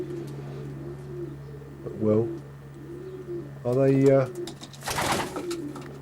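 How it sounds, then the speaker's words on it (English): Racing pigeons from long-distance family lines coo in soft, throaty bursts near a loft, with a steady low hum throughout and someone briefly speaking between the calls. "Yeah, pigeons."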